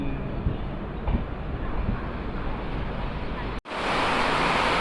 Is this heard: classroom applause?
no